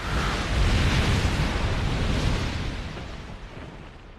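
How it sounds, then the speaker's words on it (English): Fire attack explosions in a Fullmetal Alchemist anime scene, a loud continuous roaring blast that swells and then slowly fades, with no talking. "Every snap of his fingers is filled with rage and fire. He burns Envy again and again without mercy."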